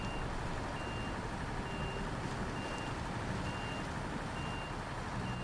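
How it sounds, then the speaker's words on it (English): A truck in the video game SnowRunner backs up, its reversing alarm beeping at an even steady rhythm over a loud, constant engine rumble, with no talk. "it even sounds like a bus when it's backing up"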